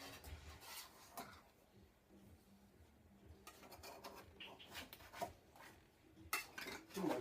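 A favorite serrated knife with a small forked tip saws through a tofurkey roast in quiet, rasping back-and-forth strokes, growing a little louder near the end.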